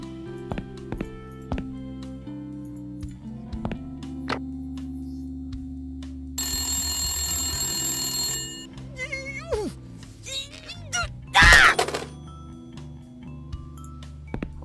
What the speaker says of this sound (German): So, und jetzt rufe ich die wieder an hier hinten.